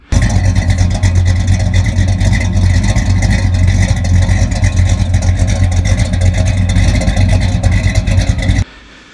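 A rebuilt 350 engine with an aftermarket cam runs loud and close in a junkyard setting, a steady rumbling idle with a rough, lopey roar that holds throughout before cutting off abruptly near the end.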